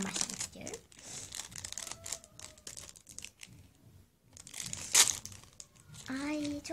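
Plastic packets from LOL Pets toy eggs being crinkled and torn open, in close, loud, irregular bursts of rustling and ripping, with someone talking now and then between them.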